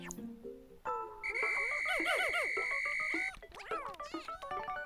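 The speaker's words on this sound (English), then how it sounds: "Now I'll use B to call them back to me with my whistle" Video game Pikmin 4 whistle calling Pikmin back: a long, bright sustained tone near 2 kHz lasting about two seconds over a wash of chattering, bouncing little creature voices, followed by quick chirpy musical blips.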